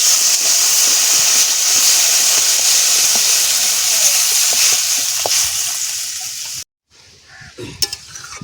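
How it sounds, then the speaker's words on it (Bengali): Water goes into a pan of sautéed hilsa fish with potato and eggplant, raising a loud, dense, steady sizzle and steam hiss that cuts off abruptly, followed by faint clatter. "ইলিশ মাছের আলু বেগুন ভালো করে কষাই করে নিয়েছি, দিয়ে দেব জল।"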